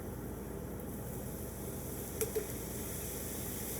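Peas tipped into a pan of fat and finely chopped onions over low heat, giving a soft steady sizzle with two faint brief clicks of contact midway and no talking.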